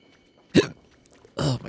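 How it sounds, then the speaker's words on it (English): Two short hiccups from a person right after drinking, each a sharp voiced gulp, spaced about a second apart, close and fairly loud against a quiet background. "every time I drink anything, I get the hiccups immediately"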